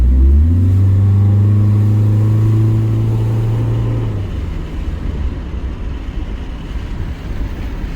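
A 1999 EK sedan engine fitted with a Y8 intake manifold, floored at full throttle, drones loud and close with a steady, slowly climbing tone for about four seconds, then gives way to a rougher, broad roar of wind and road noise, with no talking.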